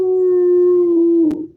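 A dog named Fishy lets out a single sustained, wolf-like howl, loud and close, holding a steady tone before tapering off at the end.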